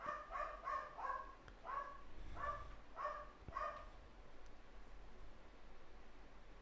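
A dog outside a door lets out a string of about seven barks, muffled and fairly distant, bunched in short bursts and then fading into quiet background hiss.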